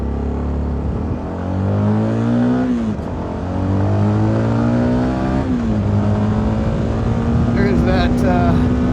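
A CFMoto 300NK motorcycle engine drones steadily while riding a country road through small Pennsylvania towns, its pitch climbing through the gears and dropping at each shift, with wind rushing throughout.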